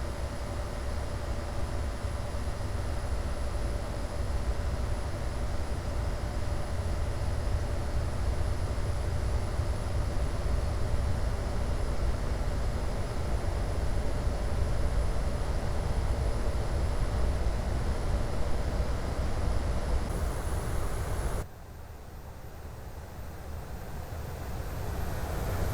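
Steady, loud jet engine roar holding at high power for a long stretch, then cutting abruptly to a quieter hum near the end.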